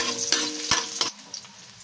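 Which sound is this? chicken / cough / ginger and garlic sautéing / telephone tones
ginger and garlic sautéing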